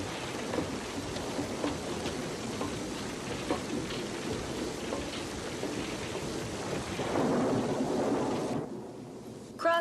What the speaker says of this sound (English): Come on in out of the rain!